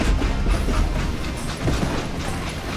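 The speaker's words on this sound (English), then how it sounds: "It was then that Jesse detached the express car from the rest of the damn train." A train rumbles along in the western video game Call of Juarez Gunslinger, a steady broadband clatter and roll with faint rhythmic mechanical clicks, continuous and fairly loud with no voices.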